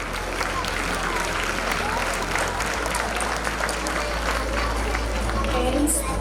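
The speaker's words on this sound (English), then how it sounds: "Parents, keep clapping." Parents at a school annual day clap continuously in a large crowd, a steady dense wash of applause under a low hum, with no break throughout.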